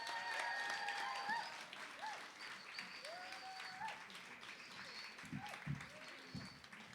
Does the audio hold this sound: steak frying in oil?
no